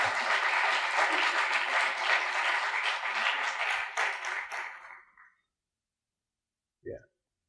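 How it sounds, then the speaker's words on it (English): A library lecture audience claps in a steady round of applause that fades out after about five seconds, followed by silence and a brief voice. "Can we have a little round of applause for just"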